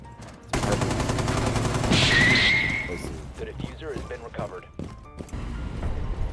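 Rapid bursts of automatic gunfire crackle loudly in a Rainbow Six Siege match, a dense volley followed by scattered shots and game effects, with players talking over the action.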